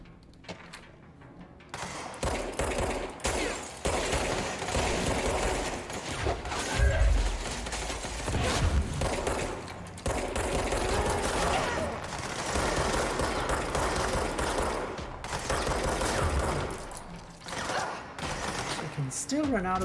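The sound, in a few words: gunfire in the video game Control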